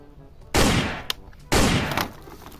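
Two loud bursts of electronic gunfire from a Spider-Man toy gun, each a sustained blast of about a second, separated by a short pause and a brief click, with no voices.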